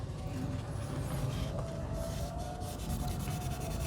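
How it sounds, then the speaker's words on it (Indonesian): Sandpaper rubs the piston of a disc brake caliper from a Honda Megapro Mono motorcycle, a continuous close, gritty scraping with a steady back-and-forth texture and no talk. "ini kita amplas ya, supaya pergerakan pistonnya di dalam kalipernya nanti halus dan laju"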